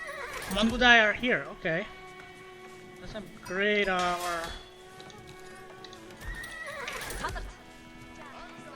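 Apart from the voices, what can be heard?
Mangudai horse archers neighing, Age of Empires IV video game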